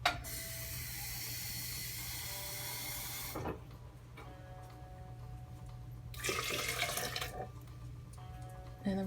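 A cup of water poured in with flax seeds, chia seeds and almond milk for a healthy recipe: a steady splashing pour for a few seconds, then a second, shorter gush after a quiet pause.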